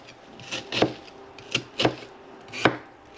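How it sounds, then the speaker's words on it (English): An onion being chopped with a knife on a cutting board: five or six sharp, close thunks at uneven intervals over a faint background hum. "Alright, chop up the onion here."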